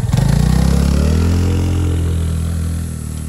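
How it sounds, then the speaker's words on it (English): Small scooter engine revs hard during a burnout in Nicaragua, a loud, close, buzzing drone that holds steady and then slowly fades, with no talking. "So we took our little scooters for a spin"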